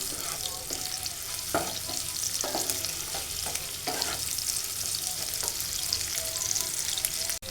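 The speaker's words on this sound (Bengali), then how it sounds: "এখন একটু পেঁয়াজটাকে ভেজে নেব।" Chopped onions sizzle steadily in hot oil left in a frying pan after fish was fried, with a continuous crackling hiss broken by several sharp scraping stirs, close by and with no talking.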